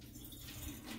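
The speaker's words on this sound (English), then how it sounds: "you got to drain them in the sink first" Water running into a kitchen sink as canned beans are drained, a steady close hiss and splash with faint dripping throughout, no voices.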